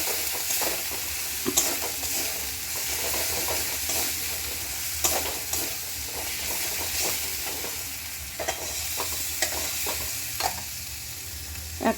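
Spices with a little turmeric fry for palak paneer in a pan, giving a constant close sizzle with frequent scraping and tapping from stirring, and no voices.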